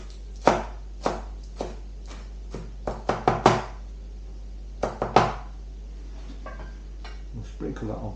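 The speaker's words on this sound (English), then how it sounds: "I'm going to have spinach, roll it up a little bit, slice it nice and fine way." A knife chops rolled-up spinach finely on a board for coq au vin garnish, sharp close knocks in uneven bursts with pauses between, against a steady low hum.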